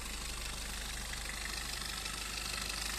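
A 2019 Maruti Ertiga VDI 1.5 diesel engine idles close by, a steady low rumble with a faint rhythmic knock and no voices.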